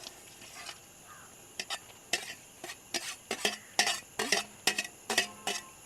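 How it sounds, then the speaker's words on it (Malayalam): Fried eggs are stirred into a simmering onion masala for a spicy Kerala egg roast, making a steady run of close scraping strokes with light clinks of the spoon against the pan, growing busier toward the end. "ഇനി ഒന്ന് നന്നായിട്ട് ഇളക്കാം"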